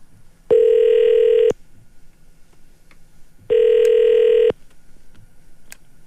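Outgoing telephone call ringback tone during a Korean radio show, two steady one-second tone bursts about three seconds apart, clear and close over quiet background.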